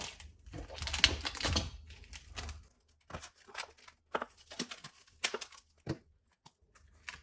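Soft, faint paper crinkling and rustling in scattered small bursts, close by, as paper is laid over cut kiwi pieces for homemade fruit ice cream before freezing.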